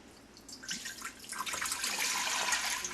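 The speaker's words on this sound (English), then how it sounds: "we're going to put our gallon of water in here" A gallon of filtered water is poured into a pot, a hissing, splashing stream that starts softly and grows steadily louder and fuller, heard alone without talk.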